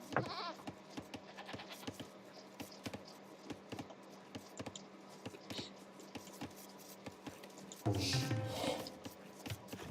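Bleating goats in Age of Empires, a short series of game-animal calls amid clicky interface sounds and faint unit noises, with a louder burst of game activity near the end.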